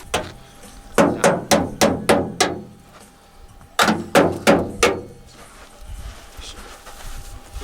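Metal of a truck's wheel well being hammered inward on an overland trip in the forest: a quick run of six sharp, loud blows, a pause, then four more, each ringing briefly.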